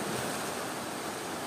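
Sea surf washes over the flooded remains of the abandoned village of Semonet, a steady broadband rush of water with some wind, and no voices.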